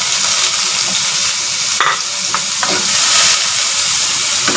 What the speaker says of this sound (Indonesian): Lanjutkan numis bawangnya dulu.